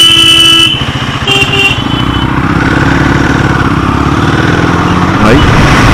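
A Himalayan 450 motorcycle rides through city traffic, its engine a steady low rumble throughout, with a horn-like tone near the start and a voice talking over it.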